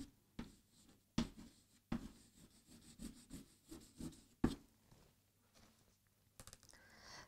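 A pen scratches faintly across notebook paper during a primary-school Ukrainian lesson, in a few sharp strokes and soft rubbing scrapes, quiet and close in a still room.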